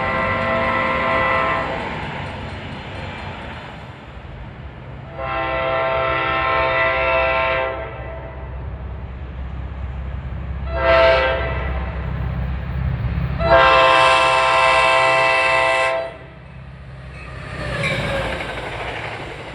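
An F40PH-3C locomotive hauling Port Jervis line train 51 passes close by at a New Jersey station, its loud horn blowing in repeated long blasts over the steady rumble and clatter of the train.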